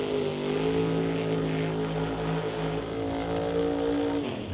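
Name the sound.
drag racing Camaro doing a burnout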